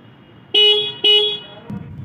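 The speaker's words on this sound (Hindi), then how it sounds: "बाकी हॉर्न का साउंड आपको कुछ ऐसा मिलता है।" Two short, loud horn honks from a 2023 Honda SP 125 motorcycle, evenly spaced about half a second apart, close by, followed by a quiet idle rumble.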